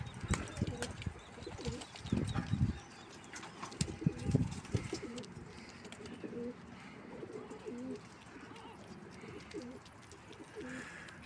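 Young pigeons coo softly inside a coop, with a brief flutter of wings as one lands; a few louder flaps come early, then steady low cooing carries on through the rest.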